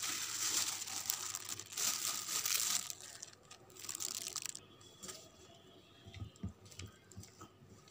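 Boiled carrot paste with sugar, salt and flour is worked by hand into a stiff dough, giving close, continuous crinkly squishing and pressing noises that thin out into softer, intermittent dabs and thumps.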